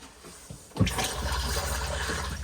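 Flush of a cassette toilet in an Elddis Majestic 105 caravan: after a couple of soft clicks, a sudden rush of pressurised water starts and keeps running and gurgling steadily, close and fairly loud.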